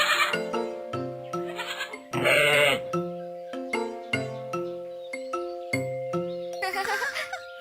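A cartoon goat kid bleats in a run of short, wavering, high cries, several in rhythm with a longer bleat in the middle, over light musical dings.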